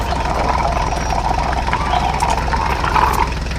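A cartoon mini tractor hauling soil runs with a steady, continuous low engine rumble and hum, loud and unbroken throughout with no pauses.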